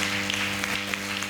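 Church congregation applauding during a sermon, a dense, steady wash of clapping that stays level for the whole short stretch, with a sustained low hum running underneath.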